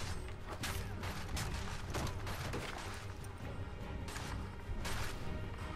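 Musket volleys from a firing line in Assassin's Creed III: several loud, booming bursts of massed gunfire, each followed by crackling echoes, with continuous battle noise in between.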